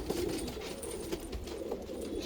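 Freshly arrived fancy pigeons coo steadily in a low, throaty rolling murmur, close and continuous across the whole stretch with no voices over it.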